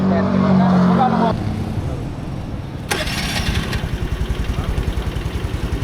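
A Honda Navi scooter engine starts and revs during a rev match against a PCX, an opening rough note giving way to a close, pulsing idle of rapid regular beats, with people talking nearby.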